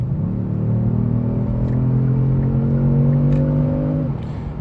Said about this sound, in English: So we're gonna give it a little bit of gas.